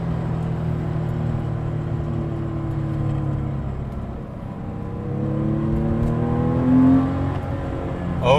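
A 1996 Porsche 993 Carrera's air-cooled flat-six accelerates in second gear on Angeles Crest Highway near Los Angeles, a steady rising engine drone heard from inside the car, building in pitch toward the end.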